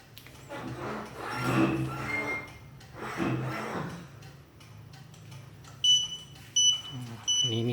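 Several short, high electronic beeps chirp in quick bursts near the end from a two-way motorcycle alarm remote on a Yamaha Tricity at night, following a stretch of muffled talking and rustling.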